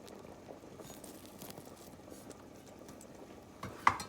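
Beef, barley and butternut squash soup with dumplings simmers in a pot, a soft continuous bubbling with small pops, ending in a brief sharper clink or splash near the close.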